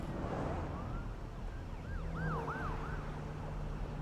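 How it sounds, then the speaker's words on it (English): Several emergency sirens wail with rising and falling tones, somewhat distant, over a steady rumble of traffic. "Go away from the sirens."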